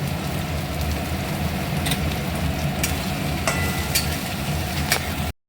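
Sliced onions frying in a pan for an Assamese sesame chicken dish, a dense continuous close sizzle with a low rumbling undertone and a few brief scraping clicks, ending abruptly.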